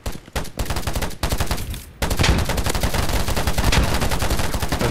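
Sustained automatic gunfire in DayZ, loud close bursts with short gaps at first, then an unbroken stream of rapid shots.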